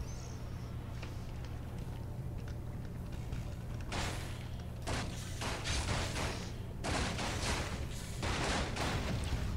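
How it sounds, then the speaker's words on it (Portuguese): Gunfire in the Warcraft 3 video game comes as bursts of sharp cracks over a low, steady hum, with several clustered volleys in the latter half, moderately loud. "O bicho tomou um tiro ali, ó."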